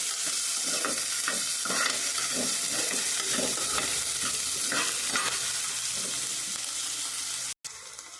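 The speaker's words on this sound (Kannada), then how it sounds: "ಅದಾದಮೇಲೆ ಈರುಳ್ಳಿ ಹಾಗೆ ಮೆಣಸಿನ್ಕಾಯಿ ಬ್ರೌನ್ ಕಲರ್ ಬರೋವರೆಗೂ ಫ್ರೈ ಮಾಡಬೇಕು." Onion and green chilli fry in hot oil for egg biryani, a loud continuous sizzle close by with repeated scraping stir strokes and a brief cut near the end.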